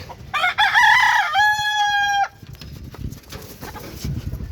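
A nine-month-old Fayoumi chicken on a farm lets out one loud, close, drawn-out crow lasting about two seconds, followed by quieter scratching and soft clucks from the flock.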